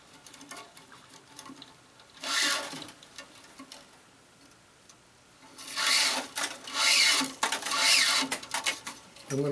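A cross string being woven through the strings of a tennis racquet during stringing with flying clamps, heard as several bursts of close rasping, rubbing friction separated by quieter pauses.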